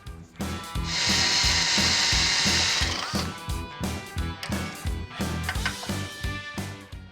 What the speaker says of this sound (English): Back at the fab table, I can drill our mounting hole.